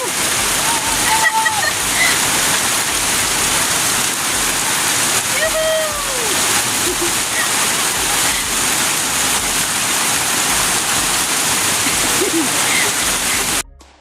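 Steady rain hisses and patters continuously for a long stretch, with faint distant voices and chirps now and then, cutting off abruptly at the end.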